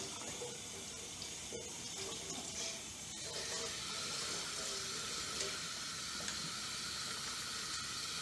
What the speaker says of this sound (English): we just have to wash our hands with antibacterial soap to start out